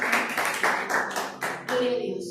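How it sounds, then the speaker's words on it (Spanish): Church congregation claps loudly after a call to applaud, a dense burst of hand claps with rhythmic surges, close and full, with voices mixed in under it. "Den un aplauso fuerte a la presencia de Dios."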